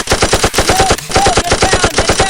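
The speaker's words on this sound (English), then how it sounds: "Enemy fire! Enemy fire! Get him! Get him! Shoot! Shoot! Shoot!" Close, loud machine gun fire in a Vietnam War combat scene, a rapid and steady stream of about twenty shots packed into two seconds with no pause.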